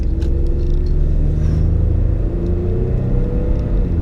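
A Ford F-150 pickup truck with the 2.7 EcoBoost engine accelerates from inside the cab, giving a loud, steady low rumble and whir that climbs gradually in pitch over several seconds with no talk.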